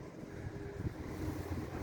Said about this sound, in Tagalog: Kaya lang mahangin talaga.